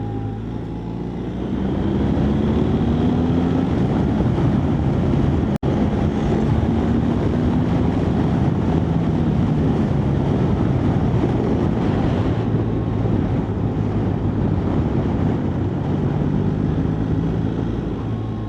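A BMW R1300GS motorcycle rides along the road, its steady engine drone mixed with heavy wind rush and rising and falling tones, loud and continuous throughout with no talk.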